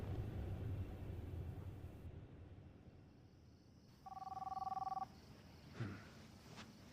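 A telephone rings once with a short electronic warbling tone, faint beneath steady room rumble and distant traffic-like noise, followed by a brief clunk.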